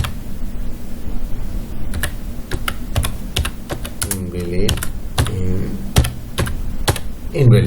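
Java code being typed on a computer keyboard, with sharp key clicks scattered at irregular intervals over a steady background hum and someone talking throughout.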